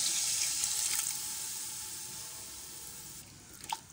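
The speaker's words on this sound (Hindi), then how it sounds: "अब हम मटन का पानी जो निकाल के लिए थे अब हम इसमें ऐड करेंगे।" Mutton stock water is poured into frying masala for a mutton pulao, producing a loud rushing pour and sizzle that gradually fades to a softer simmer, with a small splash near the end.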